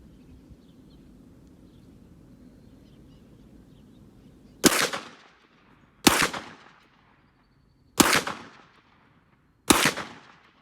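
Four loud, sharp pistol shots from a Glock 40 MOS chambered in 10mm ring out at an outdoor shooting range, evenly spaced about one and a half seconds apart after a stretch of quiet background.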